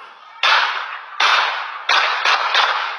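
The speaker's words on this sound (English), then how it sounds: "I heard some gunshots go off." Five sharp gunshots crack out at irregular intervals during a road rage incident, each loud and abrupt with a short ringing decay, the last two fired close together.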